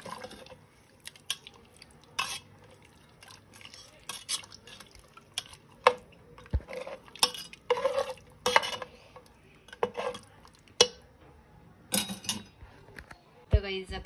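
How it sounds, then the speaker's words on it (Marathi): Fried mutton masala curry being stirred in a pot, with irregular scraping, clinks and wet squelching strokes of a spoon against metal, quiet between bursts, while someone talks in between. "तर हे टाकून देते यामध्ये आणि याला आता छानपैकी हलवून घेऊया।"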